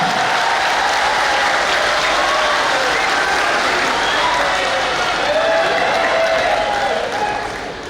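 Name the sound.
applause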